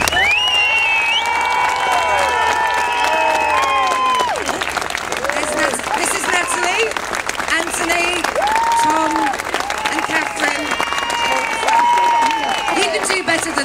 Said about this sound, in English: I want you to give a massive, massive round of applause for Plymouth's Commonwealth medal winners.